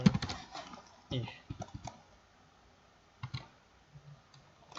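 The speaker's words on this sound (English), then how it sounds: "let me type again" Typing on a computer keyboard while entering an Excel formula: uneven bursts of close key clicks with quiet gaps between them, plus a few isolated taps.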